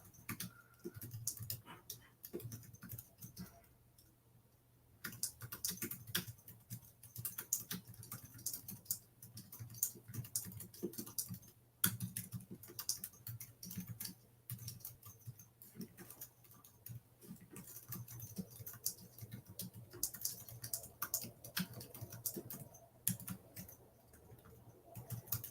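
Fingers type text on a computer keyboard, a quiet run of rapid clicking keystrokes in irregular bursts, close by, with no voice over it.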